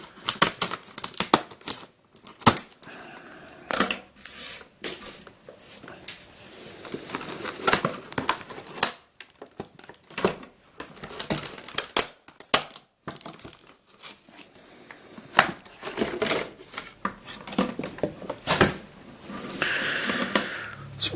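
Tough plastic packaging on a puzzle cube is cut open during an unboxing, giving a close series of irregular crunching, crinkling and snipping bursts separated by brief quiet gaps.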